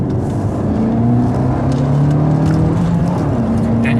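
An Abarth 595C Turismo's exhaust, a loud close drone of the engine with rising and falling tones as it pulls steadily under load.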